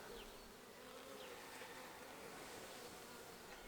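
Honey bees swarm around a five-frame bait hive during an inspection, making a dense, continuous buzzing drone. It is faint overall but steady, with individual bees passing nearby now and then.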